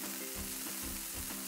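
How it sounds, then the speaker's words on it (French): Butter melts in a saucepan for a béchamel sauce, giving a steady, soft sizzle with faint crackling that stays even and fairly quiet throughout. "Coupez le beurre et faites-le fondre à la casserole."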